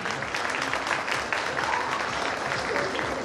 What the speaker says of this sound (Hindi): आपकी तालियां बताएंगे